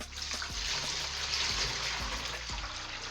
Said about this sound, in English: I'm going to pour some cold water